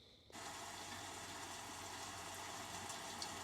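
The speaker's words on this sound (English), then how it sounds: "Rain." Rain nature sound played through the media system of a 2023 Kia Stinger GT, a dense, even hiss that starts abruptly and holds steady, with no talking.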